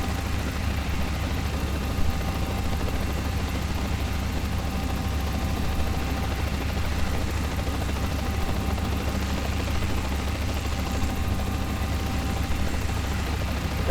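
A Guimbal Cabri G2 training helicopter in flight gives a steady, loud engine and rotor drone heard from inside the cabin, unbroken and without talk.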